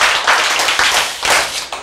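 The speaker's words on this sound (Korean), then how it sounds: "박수." Audience applause at a talk or lecture gathering, a short burst of close, loud clapping in uneven pulses with no talking over it.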